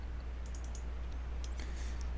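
A computer mouse clicks a few times in quick succession, light and crisp, over a steady low electrical hum.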